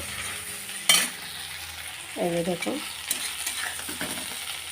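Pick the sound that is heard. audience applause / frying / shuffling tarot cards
frying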